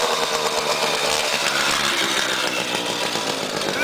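A moped engine revs hard at a moped endurance race, a steady, buzzy, high-pitched whine that fills the whole few seconds at a constant, fairly loud level with no talking over it.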